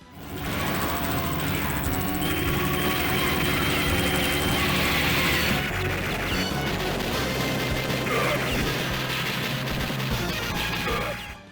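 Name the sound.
boss helicopter in video game Metal Slug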